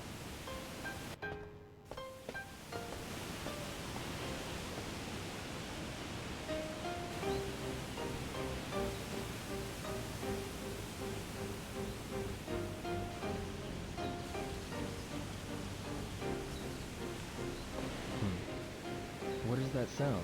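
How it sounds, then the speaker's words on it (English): A waterfall in the Shenmue 2 video game, heard along a path near Guilin on the way to Bailu Village, as a steady broadband rush that runs for the whole clip beneath a musical score. "It sounds like a waterfall."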